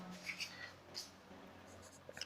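Chalk or marker taps and scratches on a classroom board in a few short strokes during a chemistry lesson, faint and close.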